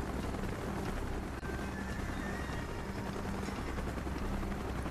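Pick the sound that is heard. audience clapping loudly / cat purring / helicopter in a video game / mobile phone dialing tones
helicopter in a video game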